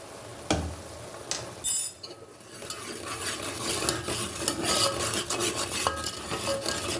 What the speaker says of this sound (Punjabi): ਮਸਾਲਾ ਚੰਗੀ ਤਰ੍ਹਾਂ ਭੁੰਨਿਆ ਜਾਵੇ